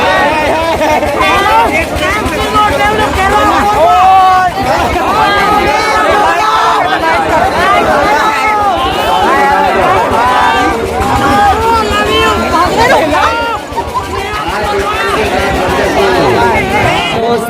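A dense crowd fills the Madai village fair in Rampur, Chhattisgarh, with continuous loud chatter and overlapping voices close all around, a steady hubbub with no pause.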